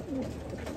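A pigeon coos softly in a breeding loft, one brief low warble close by against quiet room noise.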